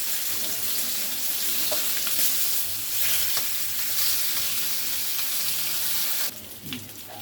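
Flipped katla fish pieces fry in oil in a karai wok with a continuous close crackling sizzle, ending with a brief clatter of utensils as the hiss drops.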